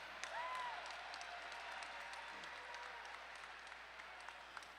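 A fight-night crowd applauds two mixed martial arts fighters after a three-round bout, a steady, moderately distant wash of clapping that holds for several seconds, with a faint voice briefly audible near the start.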